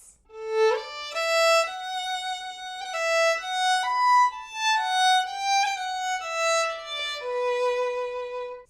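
Solo fiddle plays a variation on a Danny Boy phrase up the octave, sustained bowed notes moving smoothly through the melody, clear and close with no talking.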